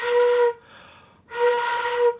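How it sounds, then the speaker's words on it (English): A flute played with too big an aperture and too much air gives two breathy, airy sustained tones, each roughly half a second to a second long, separated by a softer gap, close up, with no talking. "That's what a lot of beginner flute players sound like"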